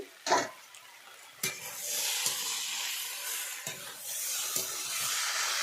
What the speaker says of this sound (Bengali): এর মধ্যে দিয়ে দিচ্ছি পরিমাণ মতো লবণ, দিয়ে এইভাবে ভালোভাবে কিছুক্ষণ কষিয়ে নেব